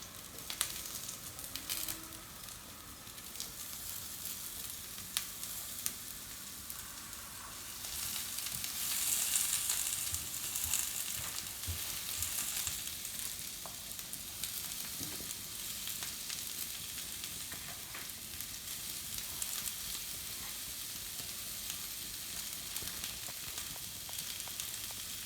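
Onions and peppers frying in a pan, a steady close sizzle that continues throughout with occasional stirring crackles.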